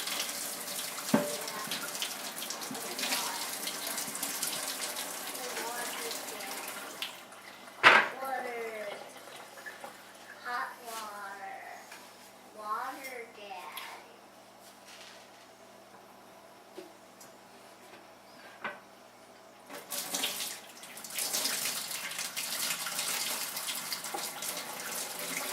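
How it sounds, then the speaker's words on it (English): Cooking water pours off rehydrated vegetables in a kitchen sink for ratatouille, a steady broadband rush that runs for several seconds, then stops for a quieter stretch, then returns near the end. "We want to drain off the water that we were using to cook and rehydrate the vegetables."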